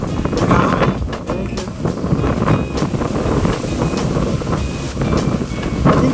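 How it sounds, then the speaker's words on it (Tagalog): Strong wind buffets the microphone in a steady, loud roar with gusty surges aboard the cruise ship Costa Serena at sea, no voices heard over it. "Lakas ang hangin ah."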